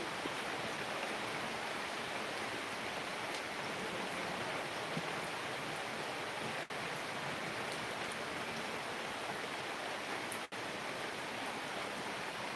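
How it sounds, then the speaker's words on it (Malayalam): Heavy monsoon rain pours down outdoors in Palakkad as a dense, continuous hiss that holds level throughout, with no voices. "നല്ല മഴയാണ് പുറത്ത്"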